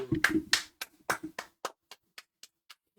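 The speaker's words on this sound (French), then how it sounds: "Seul qui applaudit. Bravo, ouais." A single person claps alone in a sparse, steady rhythm, about a dozen sharp close claps spaced evenly over a few seconds amid a casual card-opening session, with brief voices at the start before the claps continue unaccompanied.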